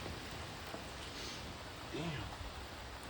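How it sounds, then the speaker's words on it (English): Pouring rain during a massive rainstorm, heard from near a garage as a steady, dense hiss of falling water with no clear gaps. "It's raining and this animal is still there, guys. Look, he's still there. It's pouring rain."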